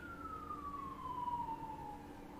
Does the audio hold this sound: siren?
yes